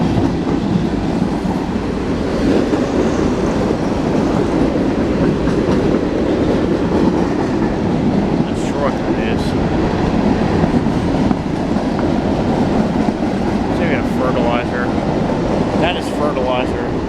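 An empty freight train rolls past close by with a continuous loud rumble and clattering wheels, faint squeals toward the end, while people talk beneath it.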